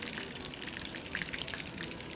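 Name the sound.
chicken drumsticks frying in hot oil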